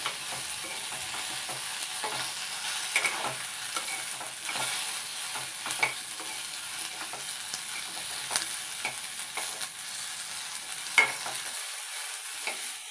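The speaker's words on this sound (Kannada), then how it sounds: "ಟೊಮೆಟೊ ಸಾಫ್ಟ್ ಆಗೋ ತನಕ ಫ್ರೈ ಮಾಡಿದರೆ ಸಾಕು" Tomato fries in a pan for masala puri with a quiet, steady sizzle. Light stirring scrapes recur throughout, close but fairly soft, and no voices are heard.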